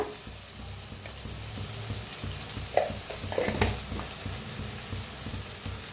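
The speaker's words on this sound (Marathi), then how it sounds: "छान असं भाजूया" Onion and tomato masala with turmeric, red chilli powder and green chillies frying in a pan, a steady close sizzle with stirring scrapes near the middle, no talking.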